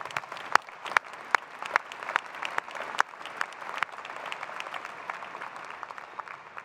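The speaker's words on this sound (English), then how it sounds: "let's give them a big round of applause" A crowd at a university graduation ceremony gives a round of applause, with sharp individual claps popping out near the front over a dense, steady bed of clapping that carries on for several seconds without speech.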